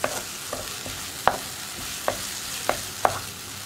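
Yogurt cooking in oil with onion masala for a pepper chicken roast, soft frying sizzle under a few sharp spoon taps and stirring scrapes against the pan, close, no talking.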